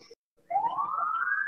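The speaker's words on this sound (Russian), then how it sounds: "слышу, как на улице воет сирена скорой помощи" An ambulance siren wails on a street outside, one rising electronic tone that climbs steadily and stays fairly loud and clear after a brief pause.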